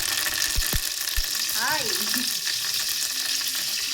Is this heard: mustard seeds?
yes